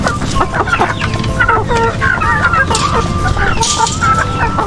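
Chickens clucking loudly and continuously nearby on a poultry farm, a busy flock of overlapping calls including laying hens, with ducks and turkeys present and the occasional rooster-like cry.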